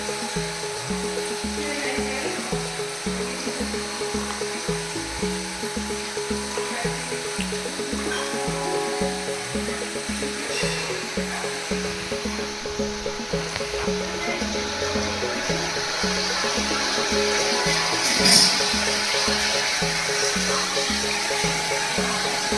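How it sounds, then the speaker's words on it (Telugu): Water fountain running at an eco-friendly house in Kerala, a steady rushing splash with a faint rhythmic pulsing throughout, continuous and fairly close, with no voices. "వాటర్ అనేది వాటర్ ఫౌంటైన్"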